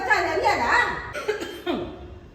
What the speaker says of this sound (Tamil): நீங்க புகை போறதுன்னு சொன்னேன் என்னால இருமல் நிக்கவே மாட்டேங்குது